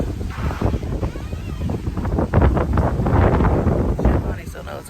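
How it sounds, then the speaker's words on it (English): Strong wind outdoors the day after Hurricane Ian, a steady roaring rush buffeting the microphone with loud low rumbles that swell toward the middle, while a person talks over it. "Ooh, it's windy out here and cold."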